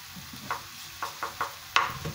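Double-concentrated tomato paste stirred in a pan over medium heat for a chicken tajine, a soft sizzle broken by about six brief spoon scrapes and taps against the pan, close and clear.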